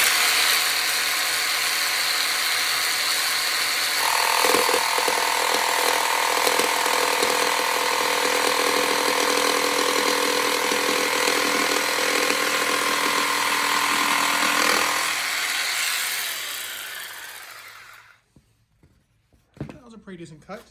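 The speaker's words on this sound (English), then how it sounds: "So I'm gonna use a jigsaw." A jigsaw cuts through scrap wood with a loud, continuous, buzzing reciprocating rasp that runs steadily for about fifteen seconds, then winds down and stops, leaving a few quiet clunks.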